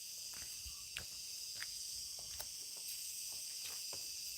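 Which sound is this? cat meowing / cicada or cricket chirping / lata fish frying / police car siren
cicada or cricket chirping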